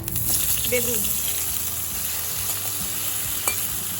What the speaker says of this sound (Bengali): এই অল্প তেলেই আমার বেগুনটা কিন্তু ভাজা হয়ে যাবে।